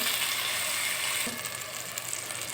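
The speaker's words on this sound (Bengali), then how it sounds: "যে মরিচ দিয়ে দিলাম মরিচ নাড়াচাড়া চলছে" Chilies fry in oil for an eggplant and rui fish curry, giving a soft, continuous sizzle with a faint scrape of stirring partway through.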